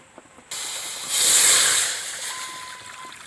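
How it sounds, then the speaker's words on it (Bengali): Water pours into a wok for steaming kadam pitha made with palm, a steady broadband hiss and splash that starts abruptly, swells, then eases off; no talk. "এবার কদম পিঠেগুলো আমি সেদ্ধ করে নেবো, তাই কড়াতে জল দিয়ে দিচ্ছি।"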